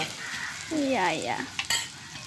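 Eggplant fries in a pan with a steady sizzle while being stirred, a close hiss with a brief scrape and clatter near the end, and a voice speaking briefly over it.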